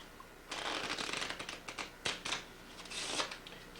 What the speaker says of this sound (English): They're going to shuffle the cards and lose that card in the deck.